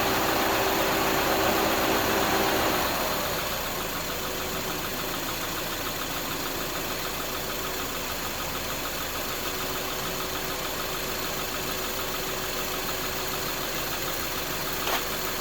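A Subaru engine idles at raised RPM while its air conditioning is being charged, holding a steady, even hum after a slightly louder first few seconds, with no voices.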